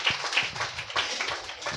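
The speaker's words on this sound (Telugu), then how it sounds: "అందరూ చప్పట్లు కొడదామా?" A church congregation claps together during a thanksgiving prayer gathering, a dense, ragged patter of many hands at moderate distance, steady throughout with a few sharper individual claps standing out.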